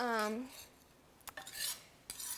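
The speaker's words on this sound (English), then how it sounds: "is you use a flipper to spread it" A metal flipper scrapes and taps against a warm pan while spreading oil, giving a few short, light scraping strokes and clinks after a brief tonal sound at the start.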